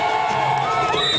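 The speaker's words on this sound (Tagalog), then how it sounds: "mga sigaw na mistulang musika sa pandinig" A dense festival crowd at the Lambanog festival in San Juan, Batangas, shouts and cheers together, loud and continuous, with overlapping high voices and whoops.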